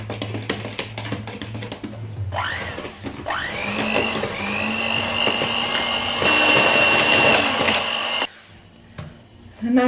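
An electric mixer beats cake batter for an orange-and-banana layer cake, whining up to speed twice before holding a steady high hum for several seconds, then cutting off abruptly.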